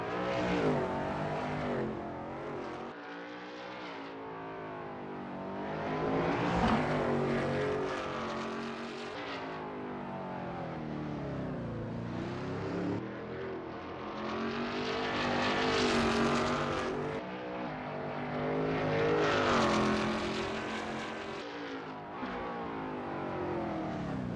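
A Shelby Cobra 351 race car engine at Mont Tremblant, droning loudly and steadily as it revs up and down through gear changes, with rising and falling pitch sweeps as it runs laps.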